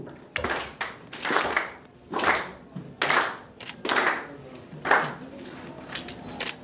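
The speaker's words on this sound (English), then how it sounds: "please can we keep clapping?" An audience claps together in steady, rhythmic bursts at a magazine launch event: about eight loud, evenly spaced rounds of group clapping with no talk over them.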